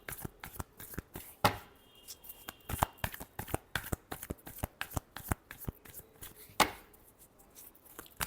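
Tarot cards being shuffled by hand, a close run of crisp riffling slaps and flicks in an uneven rhythm, with two louder bridge-like bursts, alone without speech.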